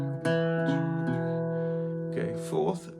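Irish bouzouki plays a phrase from Willie Coleman's Jig, several plucked notes ringing close with bright sustained overtones, followed near the end by a brief spoken voice.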